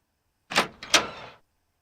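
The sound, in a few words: door sound in a video game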